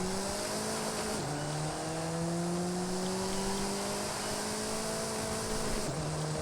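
A 2014 Alfa Romeo 4C engine in Forza Horizon drones at steady revs with a smooth, slowly rising tone, then drops briefly at a gear change and climbs again, loud and continuous with no talk.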